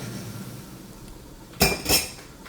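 A metal lid set down on a kadhai of simmering chicken curry gives two quick, loud clinks against the pan rim, heard close after a faint background murmur.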